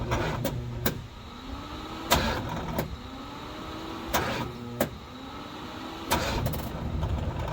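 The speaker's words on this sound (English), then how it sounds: "Fast starter sound." A 1974 Alfa Romeo Spider's starter whirs and cranks in several repeated bursts with short pauses between, each attempt failing to catch, close by and fairly loud; a bad starter or bad ground is suspected.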